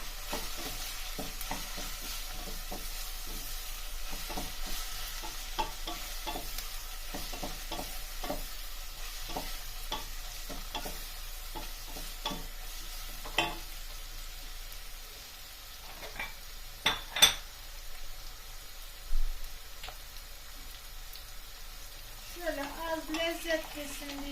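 Chicken broth soup with chili, sour and spicy, simmering in a pot, with a steady low bubbling and sizzle plus scattered stirring clinks, then a brief voice near the end.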